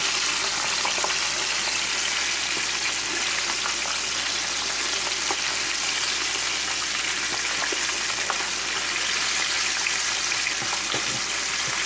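Steady, dense sizzling of food frying in a skillet, a continuous crackling hiss with scattered pops, fairly loud and close, no voices.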